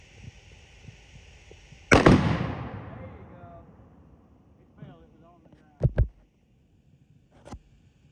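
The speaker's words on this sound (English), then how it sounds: "Well, we made an explosion" Tannerite target detonates outdoors at night with one loud, sharp blast whose rumble decays over about a second, followed by a few quieter cracks and pops; people talk faintly before the explosion.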